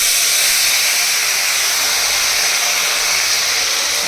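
Water poured over spice masala in a hot pan sets off a loud, steady, close hiss of sizzling and steam that runs unbroken, with no voices.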